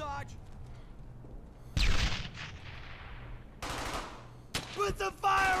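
Gunfire in the WWII shooter Brothers in Arms: Hell's Highway, sharp bursts of rifle and machine-gun shots in several clusters with decaying echoes, loud and close, over a low ambient hum and occasional voices.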